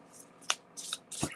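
A deck of tarot cards is shuffled in three quick, soft riffling bursts, close and fairly quiet.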